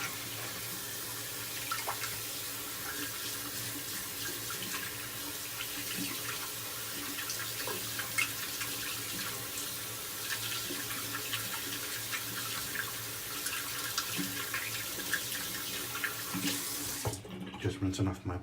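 Running tap water splashing steadily into a sink while a Fougère Gothique shaving soap puck is rinsed under it, close and continuous, with a brief clatter and a sharp change in the stream near the end.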